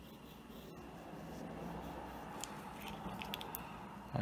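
A pencil scratches a circle onto paper with a soft, continuous rubbing stroke, faint and close in a quiet room, steady and unbroken.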